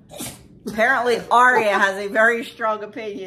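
A short sneeze bursts out at the start, followed by someone speaking.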